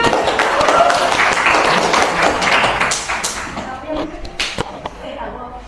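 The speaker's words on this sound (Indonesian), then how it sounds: "Ya, silakan tepuk tangan." A classroom gives a round of applause for a student group coming forward to present, dense clapping near and loud at first, then thinning into scattered taps and a few last claps as the room settles, with faint voices mixed in.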